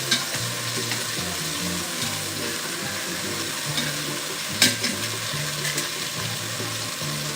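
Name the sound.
oxtails searing and sizzling in a pan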